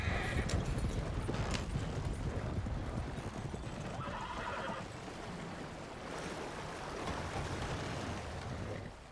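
A horse in a roleplay video game trots with steady clip-clop hooves, and a whinny comes near the start, over a soft wash of background noise.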